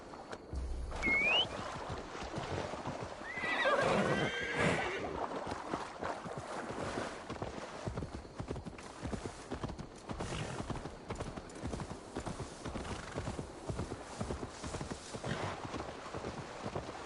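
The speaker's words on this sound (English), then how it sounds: "Now to deliver Magni his horse." Horse hooves clip-clop steadily through Assassin's Creed Valhalla gameplay, with a brief neigh near the start over a constant bed of ambient game sound and music.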